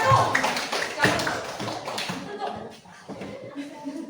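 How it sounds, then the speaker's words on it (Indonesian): Students in a classroom give group 1 a short round of hand clapping, a few loud claps at first that quickly thin into scattered taps, with voices talking underneath. "kita kasih tepuk tangan kepada kelompok 1"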